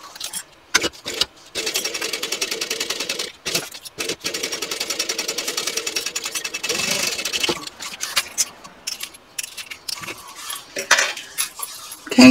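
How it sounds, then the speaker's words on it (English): A sewing machine bastes two handbag pieces together, running in close, rapid rhythmic stitching bursts with brief stops between them. "Now I want to baste these two pieces here together so that they become one piece."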